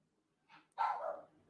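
A rescue dog barks indoors, one short yip followed by a single louder, fuller bark that trails off, close by and alone.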